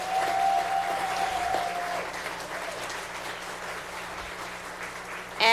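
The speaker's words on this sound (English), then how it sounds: "Please give them a round of applause." Audience applause in a city council chamber, a dense, even patter of clapping that gradually thins, with a brief tone and faint voices in the room.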